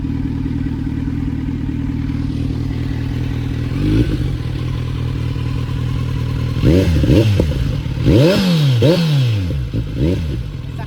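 A Kawasaki motorcycle engine idles steadily, then revs up sharply several times in quick bursts, loud and close.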